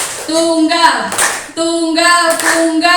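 A seminar audience chants in unison and claps once together in a sharp collective hit, then repeats the call with another single clap, loud and close.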